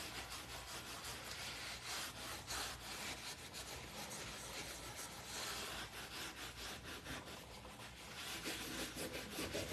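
Steady dense rubbing and scraping as wax is worked by hand into rough, thirsty vintage wood, continuous and close throughout with no talking.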